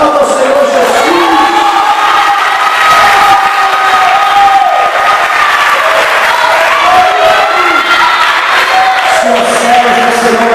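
Church congregation cheering and shouting loudly at a youth service, a dense continuous roar of many voices with a little applause mixed in.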